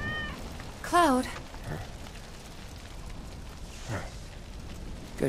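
In Final Fantasy 7 Remake, a game cat lets out one clear, rising-and-falling meow near the start, followed by softer, fainter cries over a rainy, noisy game ambience.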